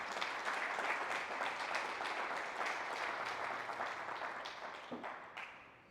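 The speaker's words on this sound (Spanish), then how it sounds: "Vamos a ofrecer una ofrenda de palmas." A church congregation applauding as an offering of praise, a broad, sustained wash of many hands clapping throughout a large room that tapers off near the end.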